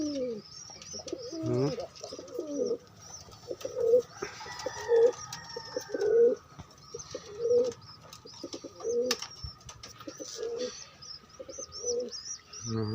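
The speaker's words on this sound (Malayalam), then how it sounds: "പ്രാവുകൾ, വെള്ളപ്രാവുകൾ" White pigeons coo in repeated soft throaty phrases at close range, joined by scattered chirps and other bird calls over a steady background.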